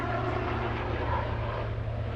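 A helicopter passes overhead in a park, its steady low rotor drone and engine roar continuous and fairly loud throughout.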